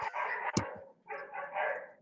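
A dog barks a few times in short, sharp yips, faint and somewhat distant, with a gap of quiet between the bursts and no speech.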